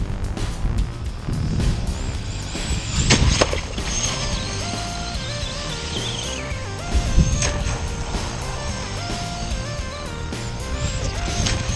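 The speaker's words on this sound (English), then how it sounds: "I'm out with the Arrma Granite 4x4, new brushless, ESC in, paddle tyres on, heading down the beach." An Arrma Granite 4x4 brushless RC car on paddle tyres with a 17-tooth pinion runs along a beach, its high electric motor whine rising and falling over gusty outdoor noise and occasional thumps.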